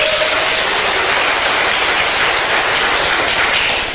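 Studio audience applauding during a Korean health-supplement sales presentation: dense, steady clapping that fills the clip at close range and does not let up, with no voices over it.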